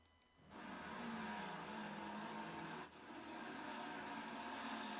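Loud, sustained tire squeal from racing cars in a sim racing video game at Valencia, with engine roar, briefly dipping then resuming, with no talking.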